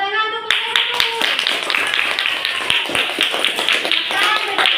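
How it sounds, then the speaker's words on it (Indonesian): Students in a classroom clap for a group after its presentation, a brisk burst of sharp, close hand claps in a loose rhythm, with a brief voice at the very start. "Tepuk tangan untuk kelompok"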